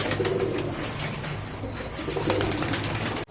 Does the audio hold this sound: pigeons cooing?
yes